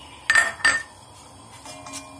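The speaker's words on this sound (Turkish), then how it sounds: "Patatesleri koyalım arkadaşlar, küçük doğramış olduğumuz patatesleri koyalım." Small diced potatoes tipped into a cooking pot with a little oil for celery soup: two sharp metallic clinks in quick succession, then a quieter rattle, close and loud.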